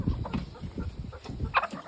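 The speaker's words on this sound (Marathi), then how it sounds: "कोंबडी कुठे हो ही कोंबडी बघा ही बघा ही कोंबडी" Chickens on a farm holding about 3,200 birds cluck and squawk in short, scattered bursts close by, with one sharper call near the end.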